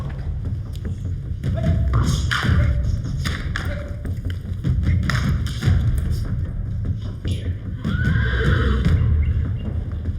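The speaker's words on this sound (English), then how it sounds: "Arab horses fighting in a stable" Arab horses neigh and whinny while fighting in a stable, with repeated loud calls, thuds and hoof knocks scattered over a low rumbling background.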